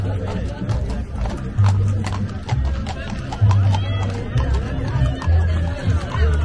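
Horse hooves clip-clop steadily on the ground at a crab festival in a rural community in El Salvador, with crowd chatter and voices talking throughout.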